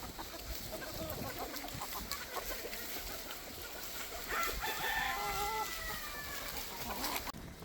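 Farm chickens roaming a field, with a rooster crowing and hens clucking at moderate distance over steady outdoor background noise.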